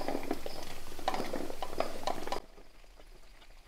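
Okra tumbling into onions frying in a pan over a medium flame, with a broad sizzle and scattered clinks and stirring scrapes that cut off abruptly partway through, leaving a faint hiss.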